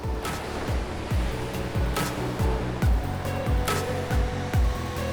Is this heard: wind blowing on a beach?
yes